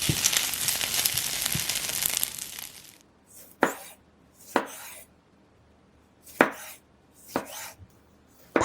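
A knife cuts cherry tomatoes into thirds on a board, with a handful of separate sharp chopping strikes spaced irregularly after a stretch of broad hissy noise at the start.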